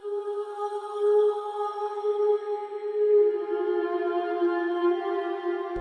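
Alchemy VST "original" vocal preset holding a sustained, breathy synthetic pad-like tone with rich harmonics, steady and alone for several seconds before cutting off abruptly.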